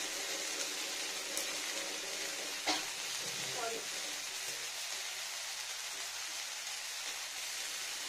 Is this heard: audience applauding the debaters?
no